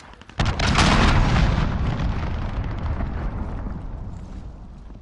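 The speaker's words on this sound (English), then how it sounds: "Allied cruise missile away." A cruise missile explosion in a video game: a sharp loud blast that swells into a long rumbling roar, fading slowly over several seconds with no one talking.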